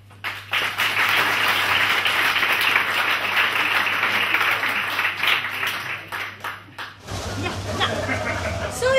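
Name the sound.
audience applause for pole dancers at revue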